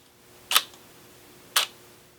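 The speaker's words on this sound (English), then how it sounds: "It's opening that shutter for 1 second." A camera shutter clicks twice at a 1-second shutter speed, one sharp click opening and another closing about a second later, crisp and close against near silence.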